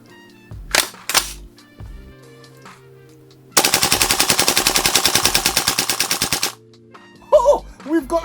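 A Golden Eagle MC6642 M4 gas blowback airsoft rifle fires BBs in a rapid, loud burst of evenly spaced cracks lasting about three seconds, its bolt cycling hard, with a few isolated clicks and handling knocks before and after.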